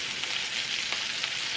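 Thick pieces of chicken frying in a hot pan, a dense, steady, close sizzle and crackle that stays even throughout with no voices.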